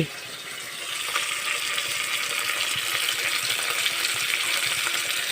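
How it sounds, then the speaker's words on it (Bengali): Eggplant frying in a pan, a steady close hiss of sizzling oil with faint crackles and pops running continuously throughout. "বেগুন একদিকে ভেজে নিচ্ছি"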